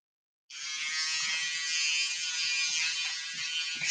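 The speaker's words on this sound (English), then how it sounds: "buy this shaver. Yo, let me do a quick demonstration." An electric shaver switches on and runs continuously at close range, a steady loud buzzing whir with no talk over it.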